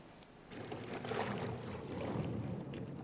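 A steady low motor drone with broadband wash, a boat engine running near water on a reef, continuous and moderately loud, with no voices.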